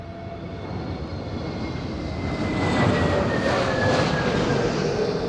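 A Transavia airliner goes around in strong wind at Madeira Airport, its jet engines building into a broad, rising roar that swells midway and holds, heard from a distance with wind noise underneath.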